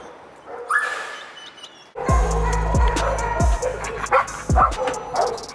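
A police dog being trained barks and yips in loud, close bursts, with whimpers in between and a brief voice before the barking starts.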